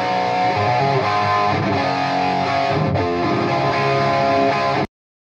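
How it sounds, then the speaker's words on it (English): Distorted electric guitar played through a Line 6 112 cabinet and captured by a single dynamic microphone, a loud, dense continuous riff that cuts off abruptly near the end, with no talking. "This is the sound of the cab with just that one single microphone."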